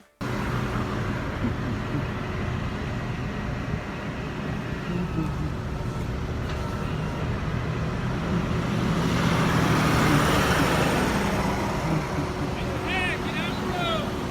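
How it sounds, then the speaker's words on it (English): Road traffic controlled by police officers on scene rumbles past steadily, a continuous wash of engines and tyres that swells slightly toward the end, with people talking over it. "Traffic that is currently being controlled by these police officers on scene."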